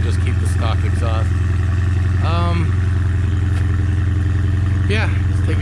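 A Dodge Challenger Scat Pack's engine idles loudly and steadily through its stock exhaust with a deep, constant rumble, while someone talks briefly over it.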